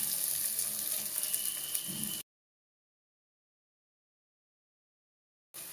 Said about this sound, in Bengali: পেঁয়াজটা একটু ভাজা হয়ে গেছে